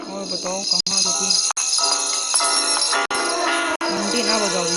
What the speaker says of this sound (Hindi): घंटी ना बजाओ भैया।